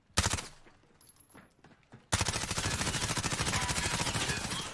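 Gunfire in the video game Warzone: a short burst, scattered quieter shots, then a sustained rapid automatic volley, loud and close.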